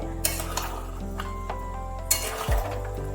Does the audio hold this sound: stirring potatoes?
yes